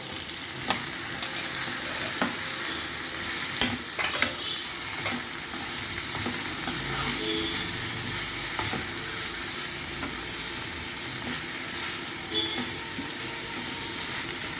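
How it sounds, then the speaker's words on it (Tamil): Pirandai (adamant creeper) frying in a pan with tamarind and coconut for chutney: a steady close sizzle throughout, broken by a few scraping stirs and clacks of a spatula, no talk. "கொஞ்சம் புளி அந்த பிரண்டையும் சேர்த்துக்கிறோம்"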